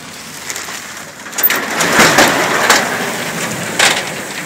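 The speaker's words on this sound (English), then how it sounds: "Because it's raining out there." Rain falls steadily outside as a close, even hiss with a few slightly louder swells, with no voices.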